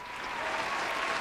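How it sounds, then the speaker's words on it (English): Brief burst of dense, steady applause from a crowd, a continuous wash of clapping lasting about a second with no talking over it. "let's do a little applause here."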